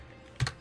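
Two or three quick, soft keystrokes sound on a computer keyboard against faint room noise.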